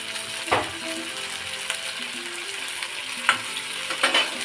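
Tomatoes fry in masala for dhaba-style chicken, a steady sizzle under occasional spatula scrapes and knocks against the pan, close and moderately loud.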